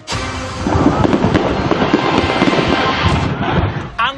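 Fireworks crackle and pop in a dense, loud barrage of rapid bursts, with rumbling booms underneath and a final louder bang, from an explosion at a fireworks factory in Lapu-Lapu, Cebu.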